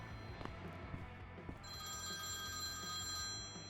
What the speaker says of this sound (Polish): I dzwoni telefon.